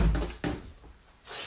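A kitchen door in a flat opens with a low thump and knock, then a brief quiet before a steady soft rush of air or movement, close by.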